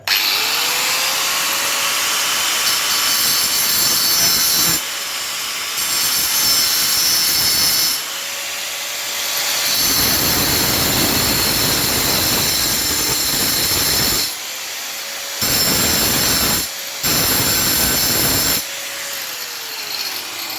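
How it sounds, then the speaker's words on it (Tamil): An angle grinder cuts through rivets on a 48V lithium battery pack, loud and close, running in several bursts with whining spin-ups and spin-downs between cuts. "இந்த ரிவீட் அடிச்சிருக்கதை வந்து ஆங்கிள் கிரைண்டரை வச்சு கட் பண்ணி எடுக்க போகிறோம்"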